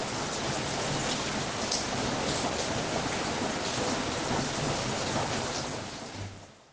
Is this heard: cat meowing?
no